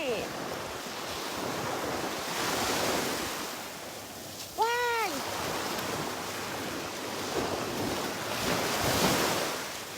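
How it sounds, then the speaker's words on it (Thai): Waves surging and breaking in repeated swells on an island's rocky shore under gusty wind buffeting the microphone, with a brief squeaky whistle-like sound in the middle. "ได้ยินเสียงคลื่นไหม"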